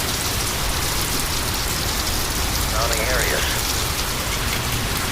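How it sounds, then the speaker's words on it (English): Heavy rain pouring steadily during a severe storm, a dense continuous hiss of drops on surfaces, loud and close throughout, with a brief faint voice-like warble partway in. "I can't walk out and take a look at this because the rain is pouring."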